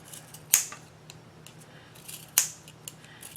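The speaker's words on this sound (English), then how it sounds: "grab our scissors and cut" Scissors snip through fabric in a few sharp, close cuts spaced apart, with soft rustling between them.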